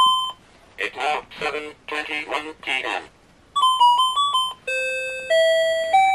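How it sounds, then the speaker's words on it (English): Late-1970s talking clock alarm playing the Boccherini Minuet as a run of clean electronic beeping notes, loud and close, after a burst of synthesized voice chatter from the clock itself. "The Boccherini Minuet will go on until you turn the thing off."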